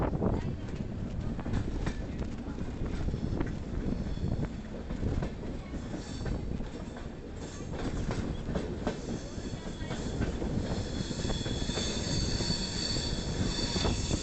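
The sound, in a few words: Andhra Pradesh Express train wheels on track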